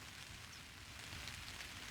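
Steady rain falls during a river fishing trip on the River Wye, a dense continuous patter without pauses, heard alone with no voices.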